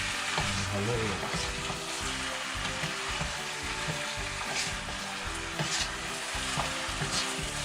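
Ingredients for Ilokano-style chicken tinola sauté in a pan with a steady, close sizzle. Repeated scraping and clinking from a utensil stirring the pan sound throughout, and faint kitchen noise sits behind it.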